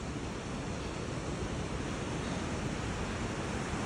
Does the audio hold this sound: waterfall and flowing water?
yes